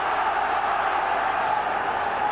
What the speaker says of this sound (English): Crowd roaring Liverpool to make extra time unnecessary